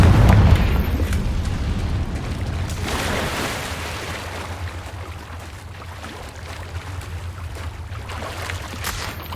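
A Confringo blasting curse detonates in Hogwarts Legacy, a loud boom that opens the sequence, then a second blast and a long rumbling decay with debris-like crackle trailing off.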